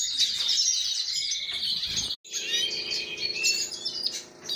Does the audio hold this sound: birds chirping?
yes